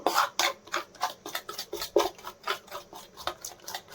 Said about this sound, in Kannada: ಇನ್ನೊಂದು ಸ್ಪೂನ್ ಹಾಕ್ಕೊಂಡು ಇದು ಬೀಟ್ ಮಾಡ್ಕೊಳ್ಳೋಣ